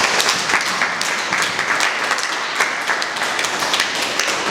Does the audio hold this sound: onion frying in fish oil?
no